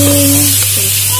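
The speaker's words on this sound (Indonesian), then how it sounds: "Terus saya akan goreng ikan kering." Dried fish fries in hot oil, a loud, steady, close sizzle with a constant low electrical hum beneath it.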